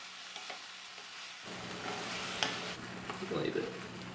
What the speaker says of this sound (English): Start by sauteing the tomatoes in olive oil until they're nice and jammy.